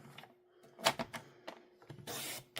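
A paper trimmer blade slides along its cutting track through cardstock, making a few sharp clicks and scrapes followed by a longer rasping swipe. The sounds are close and fairly quiet, with no voices.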